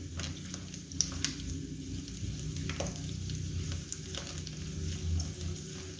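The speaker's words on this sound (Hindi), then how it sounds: "अब इसको हल्की आग पे फ्राई करेंगे।" Edible gum (gond) fries in ghee on low heat, making a soft, continuous bubbling sizzle with scattered light pops and occasional stirring clicks, fairly quiet and close.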